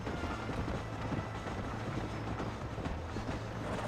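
Train running in the Red Dead Redemption video game, a steady low rumbling roll with faint rhythmic rail clatter, continuous and moderately loud.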